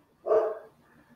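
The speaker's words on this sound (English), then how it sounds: "FedEx is here and the dog's going to bark for a couple minutes" A single close bark from a dog while a delivery arrives, one sharp loud woof followed by a faint trailing tail, with no speech.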